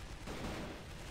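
Rapid automatic gunfire from an AK-47 in the online shooter CrossFire, a dense, continuous burst of shots filling the whole moment, loud and close with no voices.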